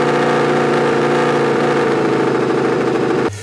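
Replica of the 2006 Ducati Desmosedici GP06 989cc MotoGP engine running loud and close, a dense steady roar that cuts off abruptly near the end.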